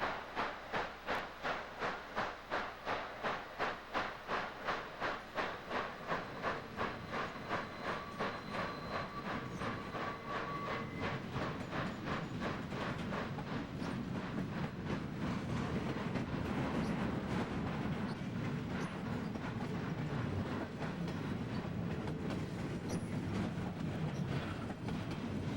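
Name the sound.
HO model Union Pacific Big Boy locomotive running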